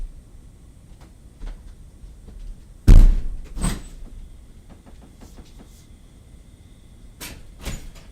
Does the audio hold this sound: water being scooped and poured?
no